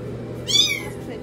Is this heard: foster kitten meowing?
yes